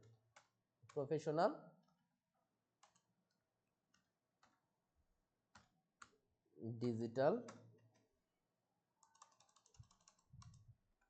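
Typing on a computer keyboard, quiet scattered clicks and taps, with a voice speaking twice over the keystrokes.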